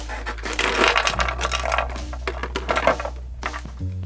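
Plastic blister packaging of a TMNT Donatello action figure is torn and crinkled open by hand, with a series of crackling, rustling snaps over a low steady hum, close and fairly loud.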